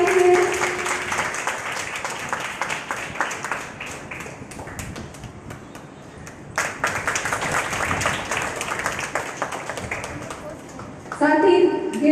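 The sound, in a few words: audience applause at quiz competition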